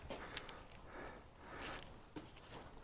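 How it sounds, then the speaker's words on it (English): Small ratchet wrench with a 7mm socket loosening a hose clamp on a 1993 Saab 900: a few quick ratcheting clicks and metallic ticks, close and faint, with one brief louder clack in the middle. "ratchet wrench here."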